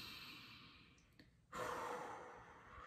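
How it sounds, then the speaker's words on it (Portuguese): A slow, deep diaphragmatic breath: a quiet, drawn-out inhale, then a brief pause and a fuller, louder exhale that lingers to the end, close to the microphone with no talking. "A respiração diafragmática"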